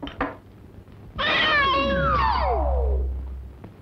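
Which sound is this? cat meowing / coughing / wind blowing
cat meowing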